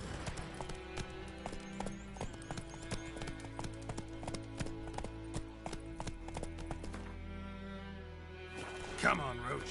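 The horse Roach gallops in the video game Witcher 3, hooves clip-clopping in a fast, even rhythm under steady game music, with a brief louder burst near the end.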